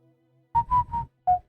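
A person whistles close by: three sustained whistled notes in quick succession, a short pause, then one more slightly lower note, clear and alone with no talk.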